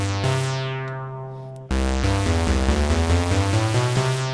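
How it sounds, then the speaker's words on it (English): Sampled Moog Sub Phatty synthesizer tones: a sustained harmonic-rich note, then a run of loud stepping notes changing pitch in a steady rhythm, with no talking. "This time it's an instrument created from samples of my Moog sub Phatty."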